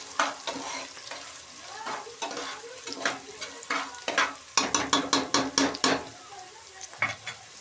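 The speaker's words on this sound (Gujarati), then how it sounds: "હવે મિક્સ કરી લઈશું આપણે વટોણાને તેલમાં પકાવી લેવાના છે" Green peas stirred in hot oil with salt, a steady sizzle broken by a quick run of sharp spoon scrapes against the pan, close and fairly loud with no talking.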